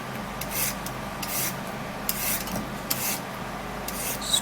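Coconut oil being scraped out of its container, giving repeated rough rasping strokes at close range, a steady rubbing texture with periodic brighter scrapes and no voices.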